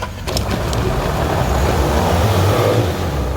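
An off-road vehicle spins its wheels while climbing a small ledge on a backwoods trail, its loud engine revving steadily for the full stretch.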